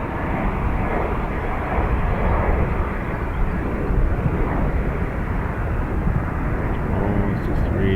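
An Aer Lingus airliner arriving at Dublin Airport gives a steady, loud broadband roar that holds for the whole stretch, with a voice faintly present underneath.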